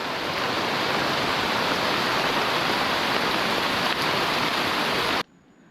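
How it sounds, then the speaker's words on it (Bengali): Heavy monsoon rain pours down on a hill road, a loud, dense, unbroken hiss that fills the air and then cuts off abruptly near the end. "প্রচুর বৃষ্টি হচ্ছে"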